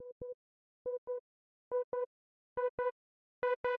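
Serum synth preset built from detuned saw waves with unison, sounding a bright buzzy note in five paired short stabs, growing louder and richer with each pair, no voices.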